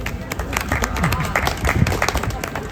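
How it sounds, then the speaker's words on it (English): A small group claps briefly and unevenly for a couple of seconds near Uluru, with a voice or two mixed in. "give me a clap everyone."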